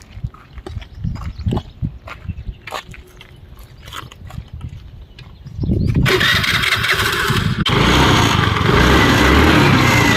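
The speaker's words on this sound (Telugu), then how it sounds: "ఒకసారి ఇంజన్ కండిషన్ చూడండి." A Honda Activa 4G scooter, 2017 model, first gives off light clicks and handling noise, then its small engine catches and settles into a steady, loud idle that runs close by until the end.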